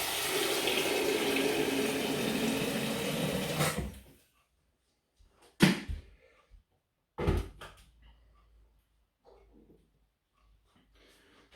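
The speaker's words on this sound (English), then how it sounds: "I think I'm going to add a bit more hot water to that actually." Hot water pours steadily into a plastic home brew fermenter tub for a St Peters Golden Ale kit for about four seconds, then stops, followed by a few sharp knocks and clunks in a quiet room.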